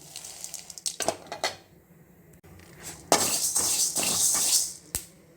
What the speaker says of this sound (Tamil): இது வறுக்கிறது வந்து இந்தமாரி படார் படார்னு சத்தம் கேட்கும்